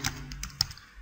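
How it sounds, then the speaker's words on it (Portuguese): Brief burst of typing on a computer keyboard while entering settings for a mini XBee shield module: a few quiet, separate key taps in just over a second, close and soft, with no speech. "Vamos digitar"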